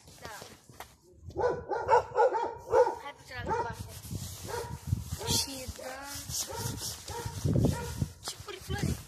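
A dog barks repeatedly outdoors in Câmpina, Romania, in short clustered bursts amid lively nearby talking and background commotion.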